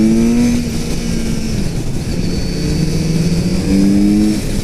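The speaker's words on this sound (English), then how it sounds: "When you actually get on it full throttle from a stop there, you hear the exhaust a little bit" Kawasaki Z900RS motorcycle at full throttle from a stop, a loud, close exhaust note climbing in pitch through the gears with brief dips at each shift, no talk over it.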